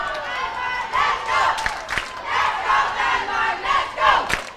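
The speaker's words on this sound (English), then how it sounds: "And there's now a lot of cheering now for the Danish boys and girls." A bowling hall crowd at a European youth championship cheers for Danish bowlers, with loud rhythmic chanting and shouting in rising waves, swelling and easing every second or so.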